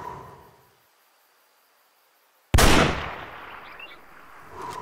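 A single sharp .375 Holland & Holland rifle shot in the hunting game Way of the Hunter, a sudden loud crack after near silence, followed by a decaying outdoor echo and faint ambient birds.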